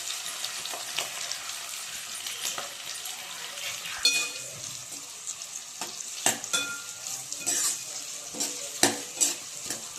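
Onions frying in an oil-filled pan with cumin make a constant hiss and sizzle, while a spoon stirs and scrapes against the pan in sharp, irregular clicks and knocks.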